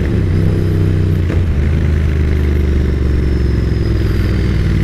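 A Yamaha XSR900 motorcycle engine drones steadily up close, with its pitch shifting as it revs and a brief change partway through during a gear shift.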